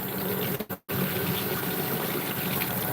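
Water runs steadily from a kitchen sink tap beside an aquarium setup, a continuous rushing gush that breaks off briefly near the start before flowing again.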